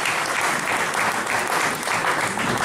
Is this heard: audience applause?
yes